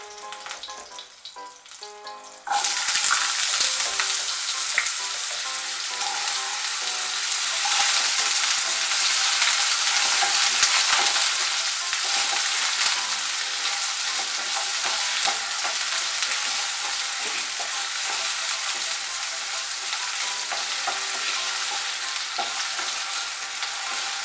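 Cut potatoes and green chili drop into hot oil for a Bengali sojne datar chorchori, bursting into loud, close, continuous frying sizzle that crackles and rustles as they are stirred in the pan.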